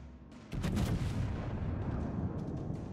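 Heavy battleship guns firing shells in World of Warships: a loud booming salvo hits about half a second in, followed by sustained rumbling and crackling impacts that slowly fade.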